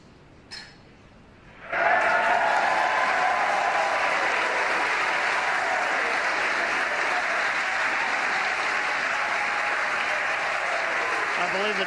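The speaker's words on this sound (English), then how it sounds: "Cheering in the background" A crowd watching the SpaceX Falcon 9 Crew-3 launch bursts into loud cheering and applause after a brief quiet moment, then keeps up a sustained, even roar.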